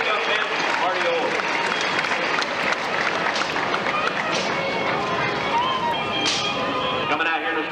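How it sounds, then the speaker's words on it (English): Rodeo arena crowd applauding in a sustained, dense wash of clapping and cheering that fills the whole stretch, with an announcer's voice and crowd noise mixed in. "how about a round of applause for sportsmanship?"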